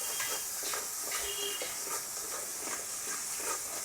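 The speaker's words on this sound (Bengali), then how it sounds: "পেঁয়াজটা লাল করে ভেজে নেওয়ার পরে হলুদ, লবণ সবটা দিয়ে সুন্দর করে মশলাটা কষিয়ে নেওয়া হবে" Masala of browned onion, turmeric and salt sautéing in a pan, a soft continuous sizzle with faint stirring scrapes, fairly quiet and even throughout.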